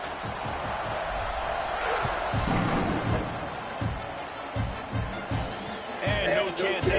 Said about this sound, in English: this crowd is buzzing at the score